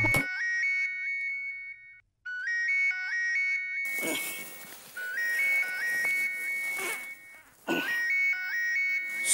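A telephone rings with a repeating electronic melodic ringtone, three bursts separated by short pauses, clear and close, with some brief noisy rustling between the rings.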